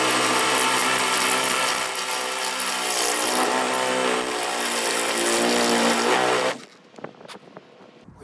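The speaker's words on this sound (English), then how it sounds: "Just drilling my hole right now." A power drill bores a hole through a metal bracket inside a step van being built out as an RV, whining loud and steady with a strained, grinding tone for about six seconds before suddenly stopping.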